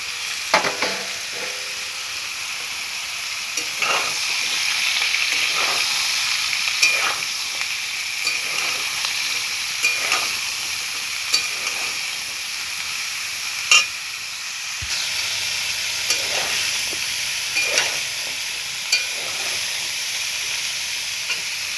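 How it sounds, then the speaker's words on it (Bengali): Cut potato, eggplant and radish fry in hot oil with panch phoron, a steady sizzle broken by repeated clanks and scrapes of stirring, close and continuous without speech. "আর দিয়ে দিচ্ছি কেটে রাখা আলু, বেগুন, মূলো।"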